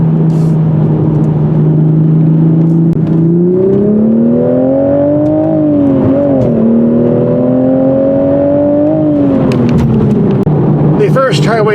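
A 2023 Toyota Supra with a 6-speed manual drives along, its engine droning steadily then rising and dipping through gear changes, loud and close inside the cabin, with someone talking over it.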